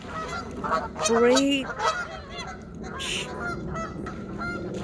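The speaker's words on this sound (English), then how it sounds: "Oh my god, now the geese is all coming." Geese at Burke Lake honk loudly in a noisy cluster, overlapping calls rising and falling nearby, while a person speaks briefly over them.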